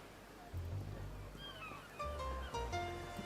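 A cat in the game Arc Line gives a few short meows over a low rumbling background, fairly faint and close, with no talking.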